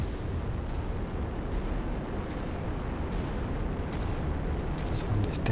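Autocannon fire from a battlemech in MechWarrior 5, a dense continuous rumbling barrage with sharp high cracks breaking through near the end, steady and loud throughout.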